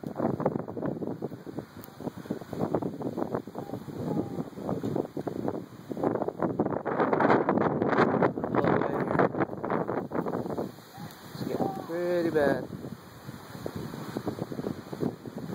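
Strong wind buffets the microphone in rushing gusts, roaring louder and softer with a low rumble throughout, outdoors as a thunderstorm approaches.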